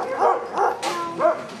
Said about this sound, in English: Quite a few are just barking and whining.